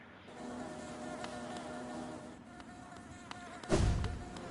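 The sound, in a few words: bees buzzing in Hollow Knight video game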